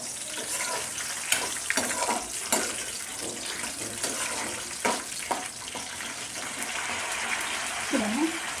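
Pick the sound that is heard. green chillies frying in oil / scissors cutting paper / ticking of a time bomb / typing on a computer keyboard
green chillies frying in oil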